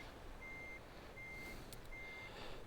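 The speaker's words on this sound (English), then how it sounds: "So just backing up at idle speed here, just to give myself some appropriate time to maneuver" A truck in Euro Truck Simulator 2 backs up at idle speed, its reversing alarm sounding three evenly spaced beeps over a low, steady engine rumble.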